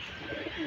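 A pigeon coos softly and close in a loft of racing pigeons, a brief low throaty murmur over a hissy background.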